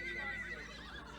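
Wild Kaimanawa horses whinny in a muster yard soon after being rounded up, one brief high neigh rising over a low steady rumble. The call is fairly faint and comes without any talk.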